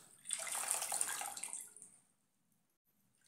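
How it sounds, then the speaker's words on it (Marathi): Amaranth greens are washed in water, a close splashing and swishing that lasts about a second and a half before fading into near silence. "आता ही धुवून घेते स्वच्छ आणि ह्या चाळणीमध्ये काढते"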